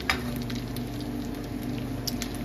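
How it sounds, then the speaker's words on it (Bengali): Fish frying in oil in a home kitchen pan, a steady close sizzle with soft crackles and small pops throughout, no talking. "তো মাছটা আর একটু ফ্রাই হয়ে যাক"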